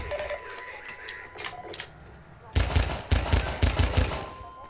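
Bursts of rapid gunfire in Half-Life 2, lighter and scattered at first, then louder, dense volleys in the second half, with muffled background sounds.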